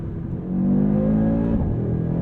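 A 2022 Audi RS3 engine revs loudly and steadily near the cabin, its pitch climbing and then dropping briefly about halfway through as a paddle-shift upshift comes in, before it pulls on again.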